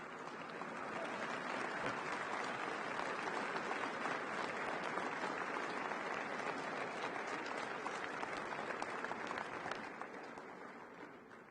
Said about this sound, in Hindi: इसमें तो ताली बजनी चाहिए ना भाई।